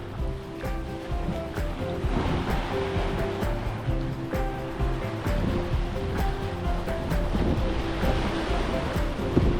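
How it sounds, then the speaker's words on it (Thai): Surf rolls and washes continuously onto Ta Yai beach on Koh Larn island, a small sandy cove with rocks, steady and fairly close, with a faint boat-like hum underneath. "หาดตายายครับเกาะล้าน"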